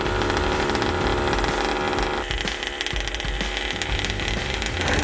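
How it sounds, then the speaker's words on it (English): A small two-stroke petrol engine on a 1/5-scale Rovan HPI Baja 5B RC buggy idles, buzzing loudly and continuously, a rough high-pitched drone close by without any speech. "Start the buggy and let the engine idle for 15 minutes."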